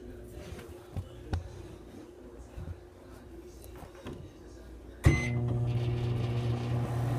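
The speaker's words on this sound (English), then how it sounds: "So I'm gonna put this in the microwave for about, I don't know." A household microwave oven heating slime: a few soft clicks and bumps, then a sharp start and a loud, steady electrical hum that runs on to the end.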